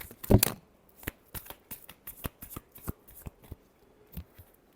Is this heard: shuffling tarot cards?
yes